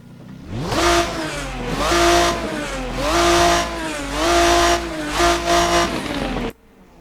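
Race Sim Studio Ferruccio 57 in the Assetto Corsa racing game, its simulated engine revved loud and close in several blips, pitch climbing and falling with each burst before cutting off abruptly near the end; no talking.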